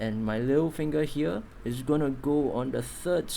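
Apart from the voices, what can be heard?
No distinct noise like a dog, phone or traffic.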